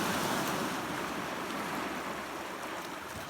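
Water moving over rocks outdoors at sunset, a steady broadband rushing wash with light wind, continuous and moderately distant, no voices.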